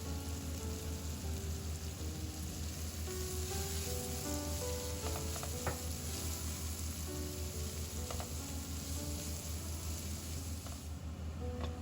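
Chopped onions fry in a pan for masala chhole, giving a steady, soft sizzle with light scattered crackles and occasional stirring.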